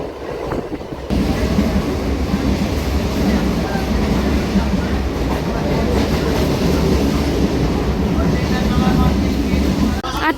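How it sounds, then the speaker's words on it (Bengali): A moving passenger train on a route toward Ranaghat. Loud, steady rumbling and rattling from inside a carriage begin after a brief quieter moment and continue throughout. "আটটা এক বাজে বগুড়া থেকে ট্রেন ছাড়লো"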